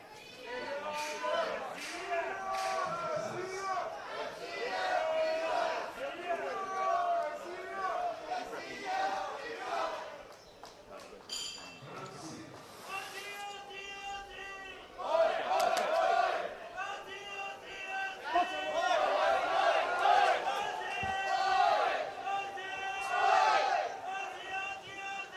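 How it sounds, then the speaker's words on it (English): Australian fans at a men's world championship boxing quarterfinal shout and cheer in loud surging waves, a dense crowd roar that dips briefly midway and swells again, with voices close under the noise. "Good amount of Australian fans in, you can hear them."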